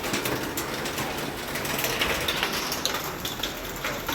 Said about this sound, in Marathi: आता पाऊस पण जोरात चालू आहे,